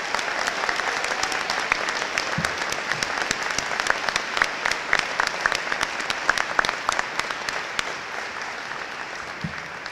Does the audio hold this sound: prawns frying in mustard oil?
no